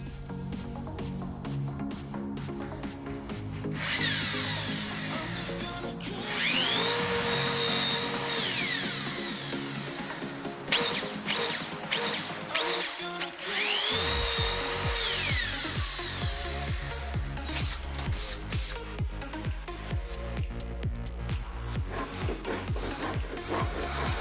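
Power tools fasten pieces into the four corners of a wooden box lid for a bed built inside a Suzuki Every kei van. Repeated close drill or driver whirs rise and stop among rubbing and handling noises.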